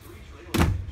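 Door of an RV at an RV show, a thin-feeling door shut once with a single sharp close, near and loud after a quiet moment.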